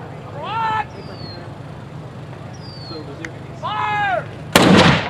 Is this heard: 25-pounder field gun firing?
yes